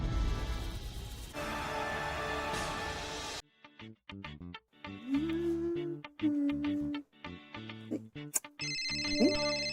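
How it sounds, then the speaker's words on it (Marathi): A mobile phone ringtone plays in a home scene, a repeating electronic melody following a burst of louder background music, clear and fairly close. "शनू बेबीचा फोन"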